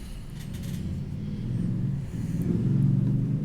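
Class 205 diesel-electric multiple unit pulling away in Train Simulator Classic, a low rumbling engine drone that swells and deepens steadily as the train gathers speed, fairly quiet and with no voices.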